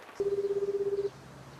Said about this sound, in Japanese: 노조미의 전화를 시오리가 받는데요